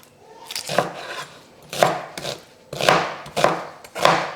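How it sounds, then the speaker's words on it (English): A knife dices an onion on a board in quick bursts of close, crisp chopping taps separated by short pauses, with no talking. "Start by dicing an onion."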